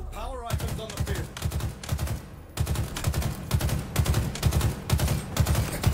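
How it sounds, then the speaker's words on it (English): Rapid gunfire in Halo Infinite multiplayer, loud repeated bursts of shots in a steady stuttering rhythm nearly throughout, with a short gap partway and a voice speaking over the start. "How are none of these shots hitting?"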